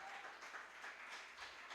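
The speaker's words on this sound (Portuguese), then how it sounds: "Aplauda o Senhor por causa disso." Church congregation applauding during a sermon, a short burst of dense, even clapping filling the room at steady strength.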